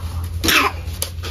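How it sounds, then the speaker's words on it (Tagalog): A single harsh cough bursts out, followed shortly by a second, shorter cough, close by over a steady low hum. "Oh, may ubo ka."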